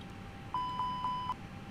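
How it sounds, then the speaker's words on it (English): Four evenly spaced electronic cockpit beeps in an FSLabs A319-X Airbus simulator for Prepar3d v5, clean steady tones close and alone against a low background hum. "Oh yeah, the beeps"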